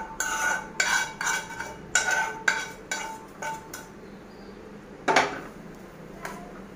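Vermicelli being added and stirred in a pot, heard as a run of sharp metal spoon clinks and scrapes against the pot in irregular bursts, close and fairly loud, with a pause before a final few strokes.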